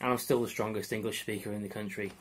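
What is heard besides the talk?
No distinct noise like a dog, phone or traffic.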